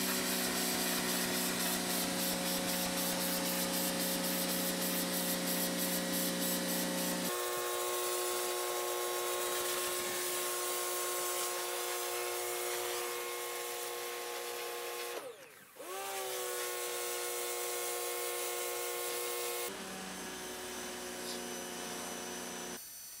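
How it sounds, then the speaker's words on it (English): A pressure washer cleans reclaimed timber destined for a door frame, a loud steady motor drone with a hissing spray whose pitch shifts as the pump cycles, with a brief dip midway and no talking. "I think they'll come up nice with the pressure washer."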